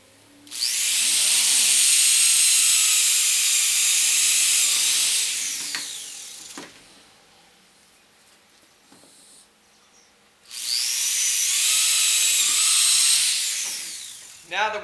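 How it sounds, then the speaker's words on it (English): Two long, loud drill runs as a 3/8 inch bit bores holes in a Perception Tribe tandem kayak, a high whining grind lasting several seconds each, separated by a quieter pause with small clicks and handling noise. "Now we're just going to drill the holes right where we marked them."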